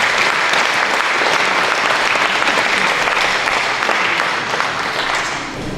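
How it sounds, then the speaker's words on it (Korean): Steady, dense applause from an audience at a forum in Jeong-dong First Church, a loud, even wash of many hands clapping throughout without letting up. "박수로 맞으시면 고맙겠습니다"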